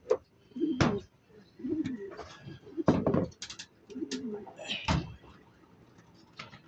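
A homing pigeon just returned from Bongabong, Mindoro, with soft low coos in short bursts amid knocking and shuffling noises, while a person talks nearby.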